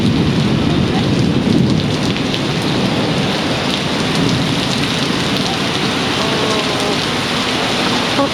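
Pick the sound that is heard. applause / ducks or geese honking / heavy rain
heavy rain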